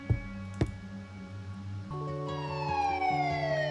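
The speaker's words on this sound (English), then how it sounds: "I hear sirens." Police sirens wail in a video game, rising in and sweeping steadily over a low ambient background, preceded by a couple of sharp knocks.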